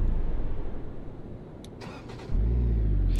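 A Skoda Karoq 2018 engine starts in the Euro Truck Simulator 2 game: a quiet cranking clatter, then the idle settles into a low, steady rumble, with no talking.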